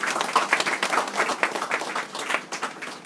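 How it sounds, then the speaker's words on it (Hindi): Audience applause at a Brahma Kumaris gathering in Kolkata, a short burst of many hands clapping at moderate loudness, close and continuous for a few seconds. "तो आज आप सब ललित भाई के लिए एक बार ताली तो बजाइए"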